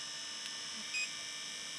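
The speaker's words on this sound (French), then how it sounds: "les ventilateurs font du bruit" Cooling fans of a Tenlog TL-D3 Pro 3D printer run in a steady, faint whirring hiss, with a couple of brief high tones near the middle.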